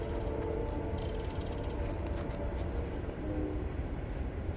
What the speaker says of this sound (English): do have a train going by, though